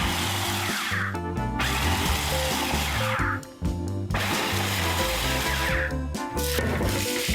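A food processor pulses coarse rusk for sausages in several loud bursts of whirring blades and rattling crumbs, each a second or more long, separated by brief pauses.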